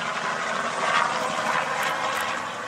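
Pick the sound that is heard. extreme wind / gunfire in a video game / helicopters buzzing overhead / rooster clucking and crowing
helicopters buzzing overhead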